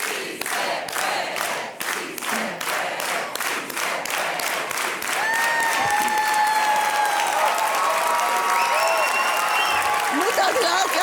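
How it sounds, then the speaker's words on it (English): A large awards-ceremony audience claps in unison, a rhythmic organized hand clap of regular loud beats that speeds up and dissolves into dense applause and cheering with whistles and shouts. "let's all do it with an organized hand clap"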